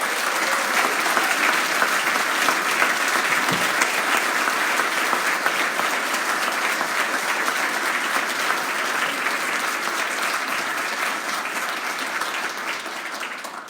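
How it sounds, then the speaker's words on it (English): Sustained audience applause at an awards ceremony, a dense steady wash of clapping hands that holds at full strength for the whole stretch and only eases slightly toward the end, with no voices over it. "I think we should all give a round of applause to Mark Nathan, who helps keep that spirit alive every year."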